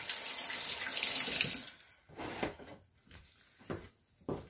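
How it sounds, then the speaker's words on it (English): Tap water runs into a kitchen sink for a few seconds while hands are washed, then the flow stops and leaves soft splashes, drips and faint handling noises nearby. "wash my hands"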